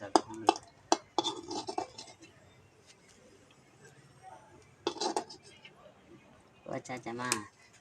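Sharp, repeated pounding and crunching strikes come in short bursts with pauses between, close by, as ginger and garlic are crushed like in a mortar, with voices faintly in the background.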